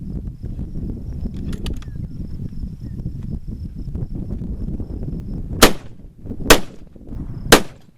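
Three sharp, loud reports from a 6.5x300 Weatherby rifle ring out near the end, each separated by about a second, after a stretch of low outdoor rumble and faint insect chirping.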